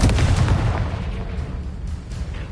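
Fiery Confringo spell blasts from Hogwarts Legacy hit loud and close at the start, trailing into rumbling impacts and fading crackles as the fight continues.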